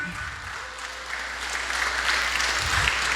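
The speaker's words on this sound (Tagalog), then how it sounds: "Palakpak" A church congregation applauds during a sermon, a steady crackle of many hands clapping that builds slightly in strength over a few seconds, with no talking over it.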